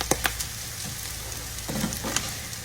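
Rice browning in a pan for a casserole, giving a soft, steady sizzle with a few light stirring scrapes and taps, close by and fairly quiet with no talking.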